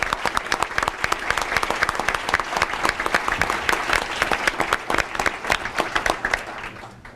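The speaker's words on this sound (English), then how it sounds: "How about one more hand of applause for all of our new hirees?" A room full of people at a Mentor Board of Education meeting gives sustained, dense applause for newly hired staff, the clapping steady and close throughout before tapering off.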